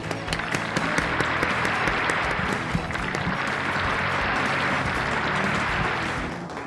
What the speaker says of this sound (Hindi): Huge round of applause.